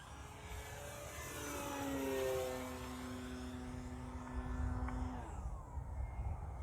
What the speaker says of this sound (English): This plane is fun to watch fly.